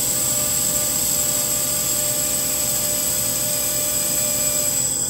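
A Zumaq laser welder welds metal with a steady, continuous high-pitched whine and hiss over an even mechanical hum, unbroken and close for the whole stretch.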